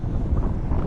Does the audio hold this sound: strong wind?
yes